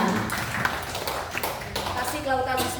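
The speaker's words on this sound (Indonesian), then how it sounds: "beri aplaus untuk kita semua" An audience claps steadily at a school staff session on positive school culture, a dense rattle of many hands going for the whole stretch while voices carry on over it.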